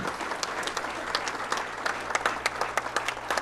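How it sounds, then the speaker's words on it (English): An audience at a sports banquet applauds warmly, a dense steady wash of many hands clapping close and loud without letup. "How about a great big round of applause"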